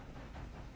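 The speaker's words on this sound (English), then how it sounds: "I hear the train." A train approaches near the tracks in Red Dead Redemption 2, a brief, faint, dense rumble with a breathy hiss and no clear rhythm.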